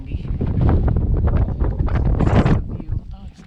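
Strong wind gusts on a sunny mountain trail toward Glen Boulder, buffeting the microphone with a steady loud roar and rumble that swells and eases throughout.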